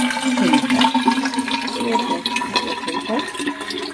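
Water runs from a household drinking-water filter in a steady, close splashing stream that fills a vessel, loud and continuous with a slight gurgle, without talking.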